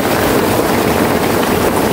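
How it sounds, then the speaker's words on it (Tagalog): Heavy rain roars steadily and loudly, a dense unbroken wash of noise close to the microphone with no voices. "malakas na lang yung ulan"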